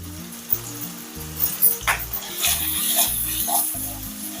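Spices and turmeric fry in a pan with a soft sizzle, broken by scraping stirs and light clinks of a utensil against the pan, close and moderately loud.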